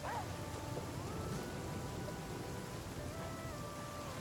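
Steady rainfall at night in The Flame in the Flood, a soft continuous patter that runs throughout with no voice over it, faint and even from start to finish.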